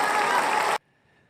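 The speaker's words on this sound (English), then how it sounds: "Big round of damn applause." Loud, dense applause from an audience during a live strategy talk, a sustained burst that cuts off abruptly after under a second, leaving near silence.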